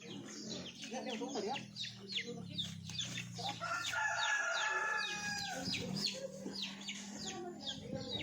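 Wild chickens call on a rainy morning, with several overlapping crows and clucks rising and falling at a moderate distance while a person talks faintly and a low hum runs underneath.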